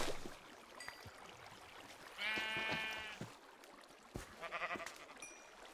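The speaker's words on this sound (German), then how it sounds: "Es sind auch ohne Ende Schafe." Quiet video game sheep bleats from Minecraft's Life in the Woods modpack, two short wavering calls a couple of seconds apart, over soft flowing-water ambience with faint clicks.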